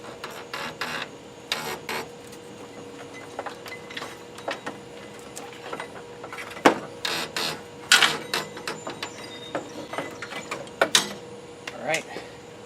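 Ratchet wrench turning a 16 mm alternator bolt on a 1987 Foxbody Mustang, heard as bursts of quick clicking with scattered metallic clanks, close by under a steady background hum.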